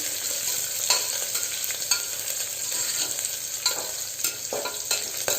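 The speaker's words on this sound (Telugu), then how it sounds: "తర్వాత 2 గ్రీన్ చిల్లీ, ఇది కొంచెం ఫ్రై అయ్యాక ఆనియన్స్ వేసేస్తామండి" Two green chillies frying in hot oil in a pan for soya chunk biryani, a loud, steady close-up sizzle with light stirring scrapes and no one talking.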